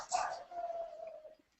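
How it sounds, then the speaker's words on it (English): A single mournful dog howl, standing in for goblin dogs in a fantasy tabletop game, rises sharply and then holds a long, wavering note before fading out after about a second and a half. "Sounds like the goblin dogs are coming."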